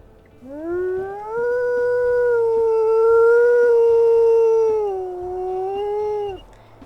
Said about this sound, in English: We'll go ahead and listen to her howl as well.